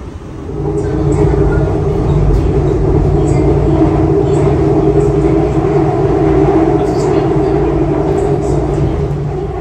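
Seoul subway train riding toward Jamsil station, a loud continuous rumble and hum of the moving carriage that swells in after a quiet start and holds steady throughout.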